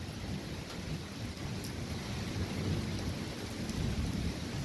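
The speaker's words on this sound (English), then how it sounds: "that lightning is crazy straight above us" Thunder from a lightning storm directly overhead in Dallas rumbles low and continuously under heavy rain, with a few sharp crackles standing out in the dense downpour hiss, and no voices.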